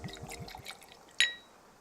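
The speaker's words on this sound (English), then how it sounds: "The sound of rum pouring into your glass over some ice." Rum poured into a glass over ice: a short run of soft liquid glugs, then a sudden bright clink of ice against glass that rings briefly and fades, all close and fairly quiet with no talking.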